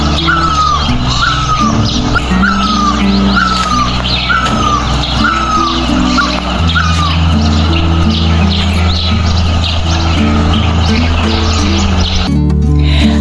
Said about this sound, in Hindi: चिड़ियों की चहचहाट तो आपने यहाँ सुन ही ली है